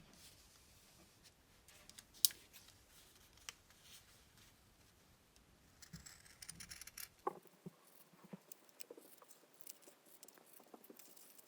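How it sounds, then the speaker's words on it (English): Scissors snipping through T-shirt fabric to trim away a curved edge, quiet crisp cuts and soft rustling of cloth, close and faint with no talking. "Then I'm going to proceed to cut the other side, get rid of this curved bit."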